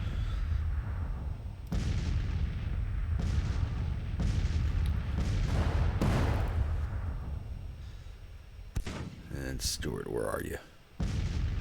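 Booming artillery fire from a Civil War video game set in spring 1862, with repeated heavy blasts through the first half, then scattered cracks and pops, while a voice calls out over the battle.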